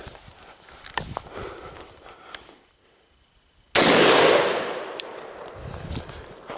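A rifle fired from a standing position at a target gives one loud, sharp crack after a short lull, followed by a ringing decay, with faint shuffling and handling noise before it.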